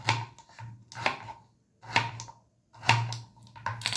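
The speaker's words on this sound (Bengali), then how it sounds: "গাজরটা আমি কেটে নেব। চৌকো চৌকো করে কেটে নেব" A knife chops carrot into small cubes on a board, with sharp close knocks coming in short clustered bursts separated by brief pauses.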